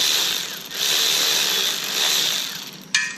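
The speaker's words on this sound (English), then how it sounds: "Hoping to spin this nut off." A wrench spins a nut off a pit bike engine during a head gasket repair, making close, rapid ratcheting whirs in two bursts that end with a sharp metallic click.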